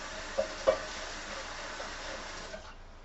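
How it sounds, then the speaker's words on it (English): A spoon rinsed under a running kitchen tap, a soft steady water stream with a couple of light clinks near the start before the flow tapers off. "Rinse my spoon."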